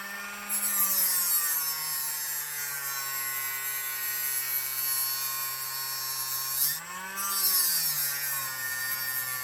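Steady grinding of an RC car wing on a WRC SBX-2 build, a continuous close rasping hum that dips briefly partway through and then resumes at the same level.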